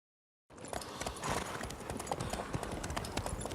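Horses' hooves clip-clopping in The Witcher 3, the armored mounts of a traveling party, a steady dense patter of hoofbeats with a low rumbling bed, starting abruptly and continuing throughout at close range.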